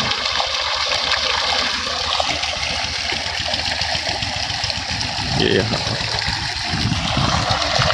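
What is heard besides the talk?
water gushing from 1 HP pump's 2.5-inch delivery pipe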